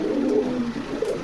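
Giribaz pigeons at a pigeon market coo in soft, low, throaty bursts that repeat close by over a steady background murmur, with no talking.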